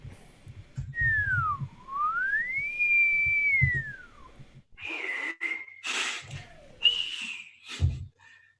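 A person whistles a clear, sliding tune that rises and falls in long smooth sweeps, then breaks into short bright bursts of whistled notes with breathy gaps between them, close to the listener.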